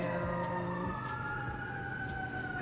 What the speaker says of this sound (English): there's a siren in every video